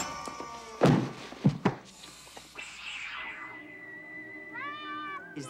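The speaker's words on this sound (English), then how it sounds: "You're not going to kill that cat!" A cat meows, a drawn-out rising and falling call near the end of the clip, preceded by several sharp thuds and clattering against a quiet background.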